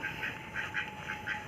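A domestic duck quacks in a quick run of about five nasal calls, close and fairly quiet, alone over a steady faint background hum.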